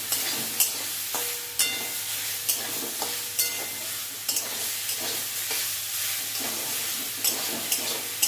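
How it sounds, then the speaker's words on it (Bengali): Close, steady sizzle of spinach frying in a pan after salt, turmeric and sugar go in, punctuated by frequent sharp scrapes and taps of a spatula as it is stirred, with no voices. "ভালো করে একটু ভেজে নেব।"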